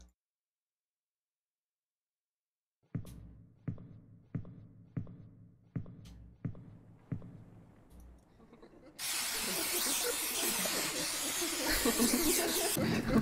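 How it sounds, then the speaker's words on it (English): A spray bottle squirts in a run of sharp, evenly spaced hisses, then a long continuous burst of loud spraying follows. "Maybe I just need to spray as much as I can."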